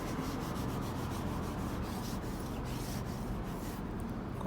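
A clay bar drags across rough car paint, making a faint, continuous gritty rubbing and scraping noise with a steady back-and-forth texture and no voices.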